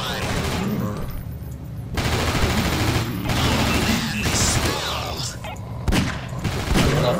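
Heavy bursts of gunfire in the horror shooter Nightmare House 2, loud shots in several clusters separated by brief gaps, with some overlapping game noise.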